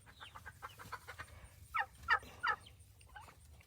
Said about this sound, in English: Those are turkeys right there.